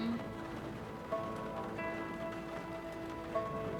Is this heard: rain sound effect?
yes